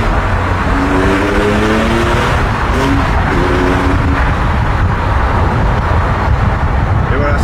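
A Porsche 997-1 4S with sport exhaust revs up loudly from inside the car, its engine climbing and falling in several sweeps over constant road rumble while someone talks.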